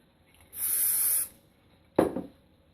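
A short burst of hairspray onto a teased section of hair hisses for under a second, followed by a brief soft rustle, in an otherwise quiet room.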